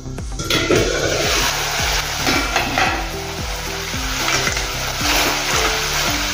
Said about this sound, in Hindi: अच्छे से इसको मिक्स कर देंगे।